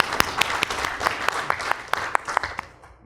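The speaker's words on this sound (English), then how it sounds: "let's give a big round of applause to Rajesh and Mr. Phil for doing this tie-up" A small audience at a launch event for a Bolton Wanderers football tie-up in India claps in sparse, distinct individual strokes that sound close and fairly steady, then thin out and fade near the end.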